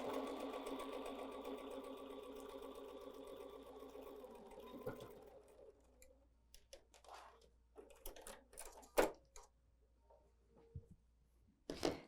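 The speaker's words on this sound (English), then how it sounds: "top stitch all the way around with an 1/8 inch seam allowance" Sewing machine top stitching around a fabric scrunchie: a steady, fast mechanical whir for about five seconds, then stops, followed by scattered clicks and handling noises.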